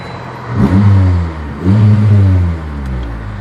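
A Honda B-series engine in a car revs hard twice, each rise climbing in pitch and then easing off, with a steady idle rumble left between and after the pulls, loud and close.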